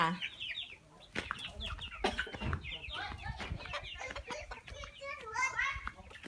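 Fighting-breed game chickens cluck and squawk nearby in short, repeated bursts, with children's voices chattering over and between them.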